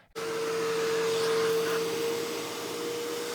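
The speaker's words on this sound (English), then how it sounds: "I'm going to rinse my Hoover using their rinse tool" Hoover carpet spot cleaner running during a rinse with its rinse tool, a steady loud motor whine that starts abruptly and holds with a constant tonal hum, no talking.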